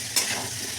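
Onion and green chili sizzle briefly in hot oil along with potatoes, a short bright crackle with a stirring scrape, heard close and alone.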